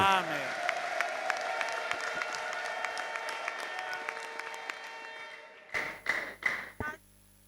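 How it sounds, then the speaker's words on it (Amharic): A church congregation claps during a worship service, with steady rhythmic clapping under a wash of voices, ending in several loud, heavy bursts of cheering and clapping. "ለጌታ ከፍ ያለ እልልታና ጭብጨባ አምጡ"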